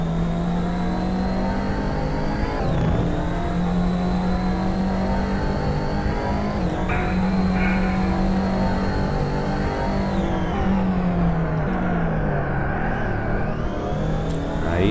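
Race car engine in the TORCS open-source racing simulator roars steadily throughout while the car drifts and countersteers through a tricky corner with traction control turned off, pitch dipping and rising with throttle changes, loud and continuous with no talk.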